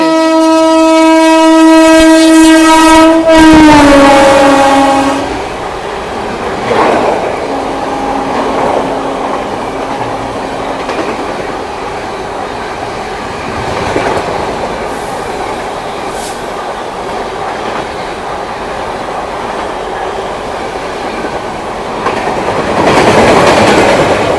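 The 12382 New Delhi–Howrah Purva Express overtakes at Shikohabad station, opening with a loud horn blast before a steady rumble and clickety-clack of passing coaches, with a brief squeal and a rising roar again at the end.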